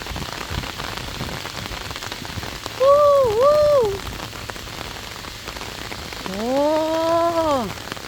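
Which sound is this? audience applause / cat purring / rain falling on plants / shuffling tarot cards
rain falling on plants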